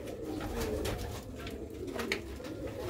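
Black-faced Sialkoti pigeon chicks, a brood of five, cooing softly and steadily nearby, with a few brief higher chirps over low background noise.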